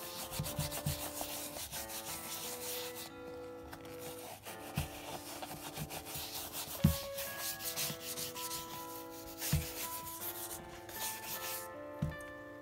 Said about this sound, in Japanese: それからこっちの中のですね、部分も、ホコリがたまりやすいので、しっかり、ブラッシングをしていきましょう。